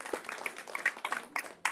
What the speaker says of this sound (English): let's have another round of applause for Mr. Castillo for what he has done in the Hispanic community